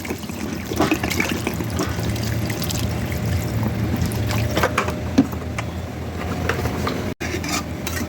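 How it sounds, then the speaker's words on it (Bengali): Water is poured into a cooking spice mixture in a pan, making a continuous splashing, bubbling wash with a few clinks and knocks mixed in. "মশলাটা হয়ে গেছে, এবার আমি জল দিয়ে দেবো।"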